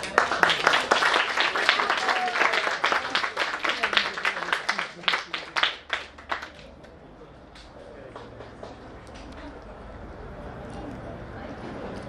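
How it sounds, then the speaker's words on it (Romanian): Small group clapping in rhythmic bursts for about six seconds, close and fairly loud, then fading out into quiet room noise with faint voices. "Hai să aplaudăm!"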